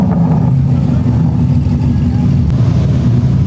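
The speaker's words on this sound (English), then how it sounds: "Lamborghini heading out." A Lamborghini pulls away at a busy car meet, its engine a steady, loud low-pitched drone with a mild revving swell that holds through the moment, and crowd chatter mixes in underneath.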